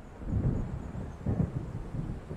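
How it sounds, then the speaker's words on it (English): Thunder rumbles low and heavy in a rainy storm in the Alan Wake video game, with rolling swells over a steady wash of rain. "It seems there's a storm coming."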